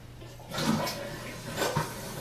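A toilet flushing close by in a bathroom, a brief gurgling rush of water that swells twice and then fades over a low hum.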